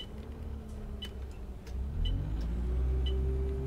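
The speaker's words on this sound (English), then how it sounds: "I love the sound of this bus, so it's such a nice sound to it." Simulated London bus with an Allison automatic gearbox in OMSI 2 drives along, its engine a steady low drone that rises in pitch as it accelerates, with faint clicks over the rumble and no talk.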